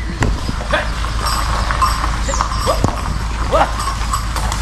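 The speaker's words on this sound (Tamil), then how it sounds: "மாட்டு வண்டி." Bullock cart hooves clop at a zoo, with irregular soft hoof knocks over a constant low rumble and some background noise.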